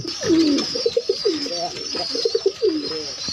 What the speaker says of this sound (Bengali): এগুলো হচ্ছে ফ্যান্টেল কবুতর